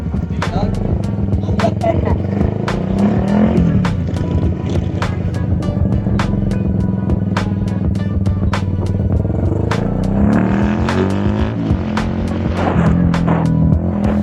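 A remapped Raider 150 FI motorcycle warming its tires on a race track, its engine droning steadily and close throughout with a string of sharp clicks and knocks, under wind noise.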